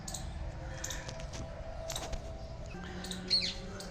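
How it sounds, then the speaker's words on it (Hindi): Birds in a Jodhpur garden give scattered faint chirps and tweets over quiet outdoor ambience, with one brighter call near the end. "पक्षियों की चहचहाहट"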